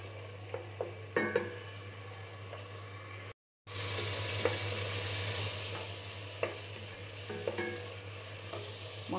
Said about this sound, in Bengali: এই মশলাটা অনেকক্ষণ কষাবো